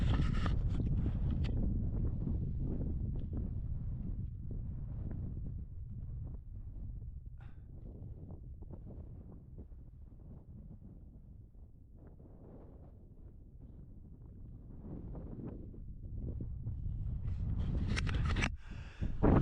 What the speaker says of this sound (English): I'm gonna send the periscope up, so there'll be a lot of wind noise